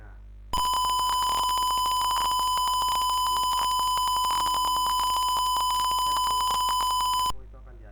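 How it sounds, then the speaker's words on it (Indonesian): Electronic buzzer in a servo circuit sounds a warning as one steady, loud tonal beep lasting about seven seconds, then cuts off. "di sini buzzernya itu bertujuan untuk sebagai peringatan dan LED sebagai penanda"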